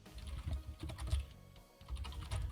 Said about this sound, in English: The soothing sounds of Sophie apparently typing